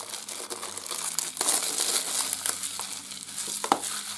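Plastic wrap is peeled and crumpled off a Blu-ray case, close crinkling and tearing that runs continuously with a few sharper crackles.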